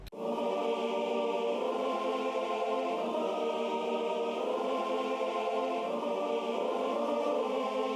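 A sustained male choir sings full, rich chords that swell steadily over a constant backing, loud and alone without speech.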